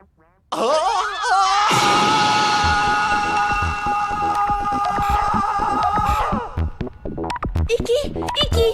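A loud, sustained anime character's scream cries out for about six seconds, harsh and strained, then breaks off into fast, excited chatter in French.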